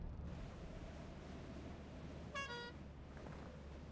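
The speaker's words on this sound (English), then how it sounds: "I'm cool with a clown horn." A clown horn in the Lethal Company video game gives a single short, bright honk over a low, droning game rumble.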